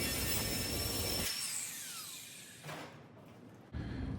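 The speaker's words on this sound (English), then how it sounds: "I cut it up and just showed you a little bit of welding and grinding" Power-tool grinding and welding on a new floor pan in a 1970 GMC 2500 truck: a loud, harsh burst for about a second, then a quieter, thinner whine before another loud surge at the end, with no talking.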